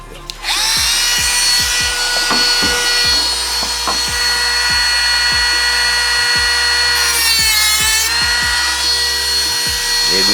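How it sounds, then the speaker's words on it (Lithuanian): A power saw cuts off a corner during repair work on a BMW E30, a loud, close whine with rapid rhythmic strokes that runs without a break and rises in pitch briefly near the middle. "va kampuką reikia nupjauti"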